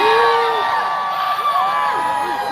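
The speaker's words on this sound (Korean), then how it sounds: "여러분이 이렇게 응원해주시고 환호해주시니까" A concert crowd cheering and whooping for a trot singer on stage, a loud continuous roar of many voices with individual shouts rising out of it.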